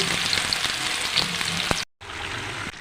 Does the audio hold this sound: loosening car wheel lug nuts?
no